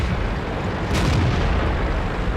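A tank gun firing in World of Tanks while the KV-1 shoots on the move, one dense booming blast over a constant loud rumble of engine and battle noise, with no talk.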